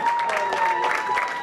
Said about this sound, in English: They were greeted by applause.